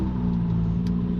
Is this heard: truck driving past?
yes